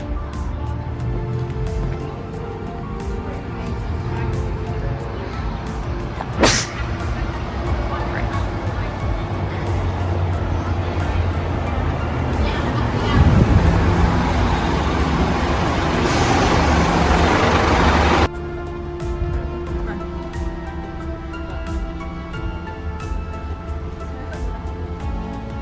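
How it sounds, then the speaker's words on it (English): A Launceston city bus on route 141 pulls up and departs, its engine rumbling with a sharp air-brake hiss partway through and a loud burst of noise near the end, as voices murmur underneath. "That's our bus."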